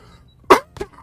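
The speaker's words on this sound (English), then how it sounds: "I can't exist without coughing my face off." A person coughs twice in quick succession, a loud sharp first cough followed by a smaller second one, close up against a quiet background.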